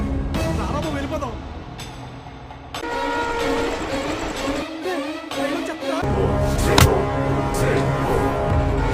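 Train rolling past during a Telugu film scene, a steady loud rumble with a sharp horn blast near the middle, while dialogue and music run over it.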